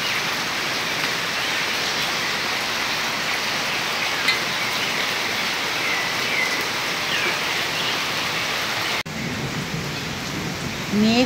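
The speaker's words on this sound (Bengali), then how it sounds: "আজকে তো এই বৃষ্টি কমারই নয়।" Heavy rain pours steadily onto a veranda and roof during a storm in the Dooars near Gorumara forest, a dense continuous roar with a brief change near the end and faint thunder mixed in, no voices.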